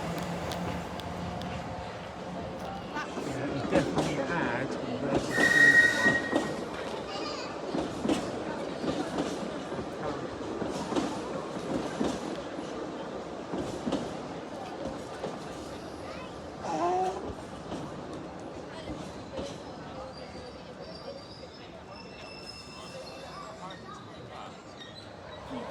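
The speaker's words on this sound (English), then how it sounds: "Here is the 1938 stock leaving Northfields to head over to the nearby depot by Acton Town Station" A London Underground 1938 stock train pulls out of Northfields station, a steady rumble of rail noise and wheel clatter that swells around the start and slowly fades as the train moves off.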